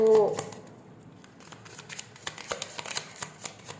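Tarot cards being handled and shuffled during a reading, giving a run of soft papery flicks and sharp snaps that grow more distinct toward the end of the clip, close by and fairly quiet.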